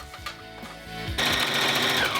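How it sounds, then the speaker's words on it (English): A sewing machine straight-stitches a pocket onto a cardigan: a few soft taps at first, then a fast, even, close-up chatter of stitching that carries through the second half. "I'm just going on my sewing machine and I'm doing a straight stitch and sewing it right on there"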